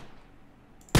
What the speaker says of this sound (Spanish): Un disparo a la derecha, me ha parecido escuchar, Quick.